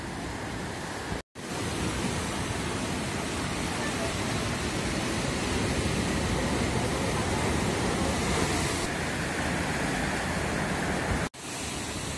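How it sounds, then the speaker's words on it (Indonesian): Strong ocean waves pound the shore at Pantai Pacar in Pucanglaban, Tulungagung, a beach open to the sea and fed by a small waterfall. The surf makes a loud, steady roar for almost the whole stretch, broken only by two brief cuts. "ombak di sini lumayan kencang ya"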